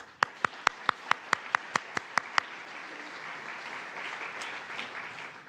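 An audience at the ISF 2026 closing ceremony applauds award winners. About ten sharp, evenly spaced claps ring out loudly, then fade into softer scattered clapping and murmur.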